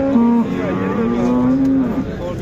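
Cattle at the Sharkhon livestock market in Uzbekistan, with one large cow giving a long, steady low moo that runs for about two seconds, loud and close, over a murmur of market background noise.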